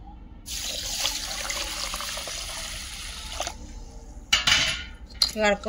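Basmati rice being washed in a pot, with water sloshing and grains swirling steadily, followed by sharper clanks and scrapes of the metal pot near the end.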